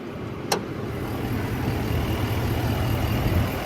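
A GMC Sierra 2500HD's 6.6-liter turbocharged V8 diesel idles with a steady low rumble, accompanied by wind noise outdoors and a brief sharp click near the start.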